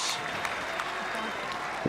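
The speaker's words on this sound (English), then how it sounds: "The crowd really getting behind Sam Stosur." Sustained applause from a tennis crowd at the Domain Tennis Centre in Hobart, steady and fairly close, with a commentator talking over it.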